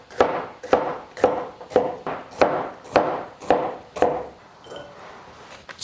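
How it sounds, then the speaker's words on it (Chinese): A knife chops raw bitter melon into small pieces on a board, about ten steady, close, crisp strokes at an even rhythm before a short pause. "就打直刀切成这样子的"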